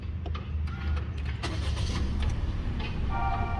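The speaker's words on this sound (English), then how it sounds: "So let's start the engine." A Perodua Ativa car engine starts up nearby: a short crank and catch settling into a quiet, even idle, with a few light clicks and chimes from inside the cabin.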